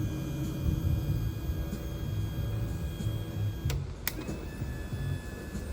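The trim and tilt electric motor on a 1974 13-foot Whaler drones with a steady low rumble and faint whine, broken by a couple of sharp clicks near the end.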